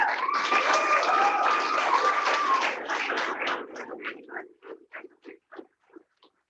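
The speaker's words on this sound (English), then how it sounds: "I appreciate the applause in between" Applause from the audience at a school district board of directors meeting, a sustained clatter of clapping that thins into scattered, fading claps near the end.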